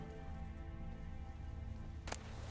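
Steady rain hisses across a wet outdoor area in The Witcher 3, a dense, even wash of drops continuing unbroken, with a brief sharp noise bursting through near the end.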